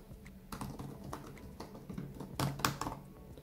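Typing on the butterfly keyboard of a 2018 MacBook Pro: quiet, close, irregular clicks and taps of keys, a few louder presses near the end, with no talking.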